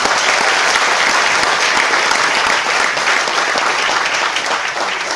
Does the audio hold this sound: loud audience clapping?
yes